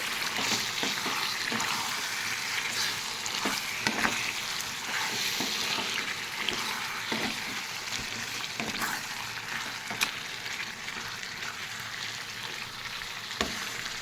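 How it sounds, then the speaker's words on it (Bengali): Chicken pieces being stir-fried (kosha) in a pan for chicken chap, a steady close sizzle and fry with occasional stirring scrapes and clinks, no talking. "মাংসটা এইভাবে কষা হচ্ছে।"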